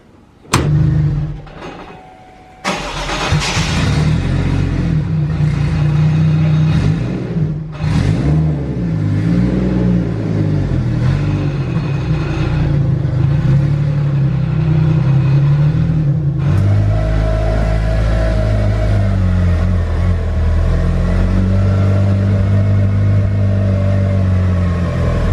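A Mitsubishi Evo engine rumbles and revs steadily for about twenty seconds as the car pulls into a shed, with a sharp thud like a door near the start. Nobody speaks.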